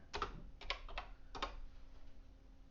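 Soft typing on a BBC Micro computer keyboard: a few clusters of quick key clicks, close and quiet, then a low steady hum as the keys stop.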